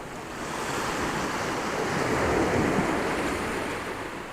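Waves wash onto the beach at Covehithe on the Suffolk coast, a steady broadband surf rush with wind noise, swelling gently toward the middle and easing again, heard alone without voices.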